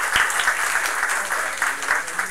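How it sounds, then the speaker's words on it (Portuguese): An audience applauding at an evening university event welcoming a director, continuous close clapping from a crowd. "Palmas, por favor."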